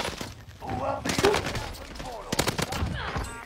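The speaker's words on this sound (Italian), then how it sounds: "Mi ha sparato?" Rapid video game gunfire rattles in repeated bursts alongside sharp impacts, heard under excited voices of players talking throughout.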